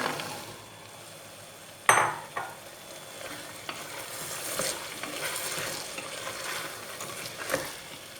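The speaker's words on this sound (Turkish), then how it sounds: "Salçayı da iyice çevirdim. Şimdi barbunyayı ekliyorum." Fresh borlotti beans tip into tomato paste frying in a pot, a sharp clatter and splash followed by steady low sizzling with occasional soft stirring scrapes, no voices.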